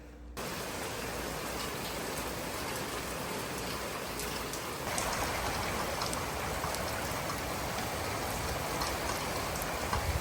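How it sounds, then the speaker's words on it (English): Steady rain falls outdoors, a dense, even hiss of drops hitting surfaces close by, continuous throughout and growing slightly louder midway, with no voices. "I'm taking a short little break to enjoy the rain out here because like I just love the sound of it."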